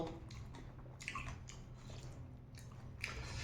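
Someone eats a bitter Isan-style koi salad with mak lin fa and mixed vegetables: close, quiet wet chewing with a few crisp, crunchy bites at intervals and no talking.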